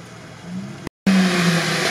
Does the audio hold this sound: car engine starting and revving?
yes